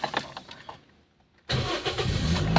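Engine of a Toyota Vios starting up: a brief quiet pause, then the engine catches abruptly and runs loud and steady close by.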